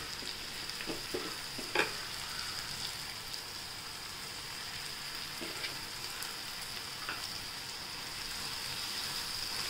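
Chopped fenugreek leaves frying in a pan, a soft steady sizzle with a few scrapes and taps of stirring, fairly quiet and without speech.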